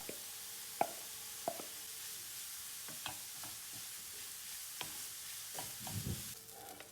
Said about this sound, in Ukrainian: Далі додаємо дрібно натерту моркву і смажимо ще 5 хвилин, постійно перемішуючи, щоб не прилипло.